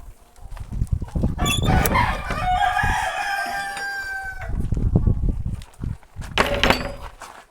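A rooster crows loudly at close range inside a poultry shed, with clucking and rustling around the calls and a second burst of crowing near the end.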